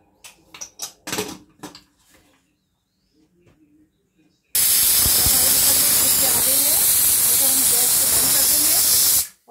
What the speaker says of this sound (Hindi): देखिए कितना अच्छा उबाल आ रहा है इसमें